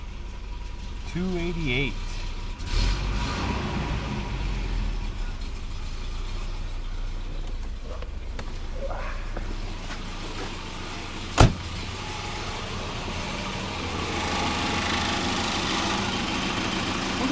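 A junk Volvo 240 cranks, catches and settles into a low, steady idle, heard up close with a rattling note and a single sharp click partway through, while a person talks over it.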